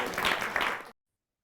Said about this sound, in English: Could I have a round of applause, please?